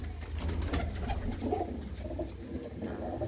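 Domestic pigeons coo in a loft, a steady low murmuring of several birds close by with overlapping throaty calls and no talk.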